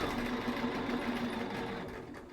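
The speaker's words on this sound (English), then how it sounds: "I'm going to sew right a hair to the raw edge." A sewing machine stitches quilt block fabric close to the raw edge, a fast steady whirring hum with a rapid mechanical needle rhythm, running continuously and easing slightly near the end.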